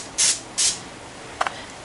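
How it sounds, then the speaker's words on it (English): Cooking spray sprayed onto parchment paper comes in two short loud hissing bursts, followed after a pause by a brief softer double puff, up close with no talking. "I'm going to spray this on the parchment paper so it doesn't stick."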